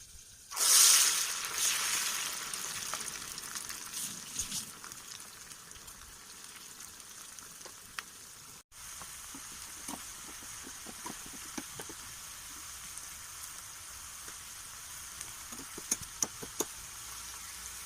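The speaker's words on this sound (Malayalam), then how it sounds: "ഇനി അതിലേക്ക് നമുക്കിതിട്ട് വറുത്ത് പോരാം" Sliced ivy gourd (kovakka) dropped into hot coconut oil gives a sudden loud burst of sizzling that settles into a steady bubbling fry, with scattered pops and light clicks of a utensil.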